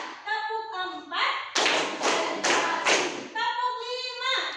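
A school class claps a counted pattern in unison, four sharp group claps in a steady rhythm, close and bright. A woman's sung or spoken voice comes before and after them.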